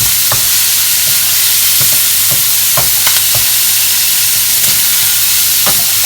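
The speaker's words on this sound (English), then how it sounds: "5 minutes, but you have to make sure you're constantly stirring it" Diced bacon and Brussels sprouts fry loudly in a pan with a steady, dense sizzle, punctuated by regular scraping knocks as they are stirred.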